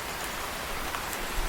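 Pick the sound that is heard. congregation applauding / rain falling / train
rain falling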